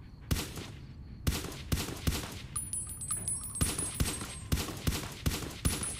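Gunshots fired at targets in Fallout: New Vegas, about nine sharp, loud reports spaced irregularly, each with a short ringing tail, with faint metallic pings between them and no talking.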